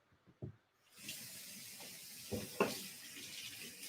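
Hot water runs from a tap during face prep for a shave, a hissing splash that starts after a few soft knocks and continues steadily with brief louder spatters.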